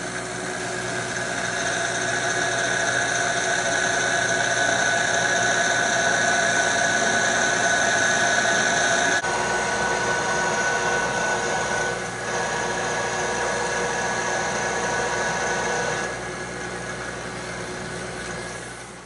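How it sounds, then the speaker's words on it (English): A power reamer cuts the bushings of an M38 Go Devil engine block, giving a loud, continuous, close mechanical whir and drone with a few abrupt shifts in tone as the cut changes. "Alright, here we go with the reamer."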